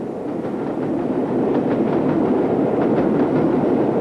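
Steam locomotive 46203 carrying a 60th anniversary headboard hauls a charter train, a steady, loud rolling rumble with faint rhythmic clatter of wheels on rail throughout, no voices.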